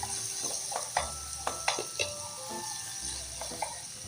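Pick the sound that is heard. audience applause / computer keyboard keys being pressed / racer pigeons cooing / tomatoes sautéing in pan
tomatoes sautéing in pan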